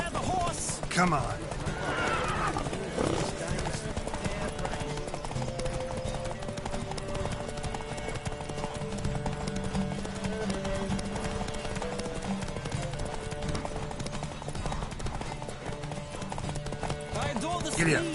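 Horses gallop with continuous clip-clopping hooves and occasional neighs during a horse race in the video game Witcher 3, steady and dense throughout while voices speak over the action.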